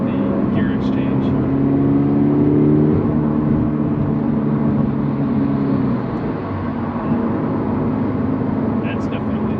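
Exhaust note of a 2022+ Subaru BRZ/GR86 fitted with an HKS Legamax Premium axleback, held steady with a low tonal drone that fades as the engine decelerates, heard close amid ambient noise.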